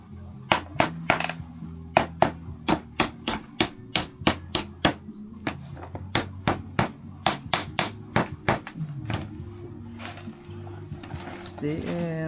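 Sharp hammer blows ring out in a steady, fairly quick series of close strikes, pausing briefly before a few more, with a voice humming underneath.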